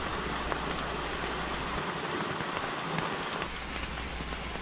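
Steady rain pours over a mountain valley stream at a camping spot, a dense, continuous hiss of drops on surfaces with a low rumble beneath, unbroken and fairly loud throughout, with no voices.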